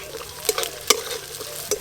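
Green peas go into a pan of frying ginger, garlic and onion as a spatula stirs, giving a few sharp scraping knocks over a quiet, steady sizzle.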